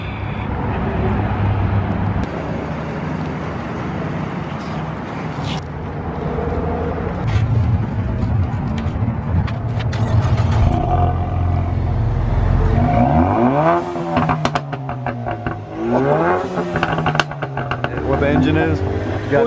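A car doing burnouts in a high school parking lot, its engine revving hard in repeated rising and falling bursts over constant tyre and motor noise, with people talking throughout.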